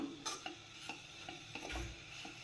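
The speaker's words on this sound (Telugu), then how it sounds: "సిమ్లో పెట్టుకొని వేయించుకోవాలి, లేదంటే కింద అడుగంటిపోతుంది." A spoon scrapes and stirs through dry grated coconut and jaggery roasting in a pan over a low flame, giving soft, irregular clinks and scrapes over a faint sizzle, close up with no talking.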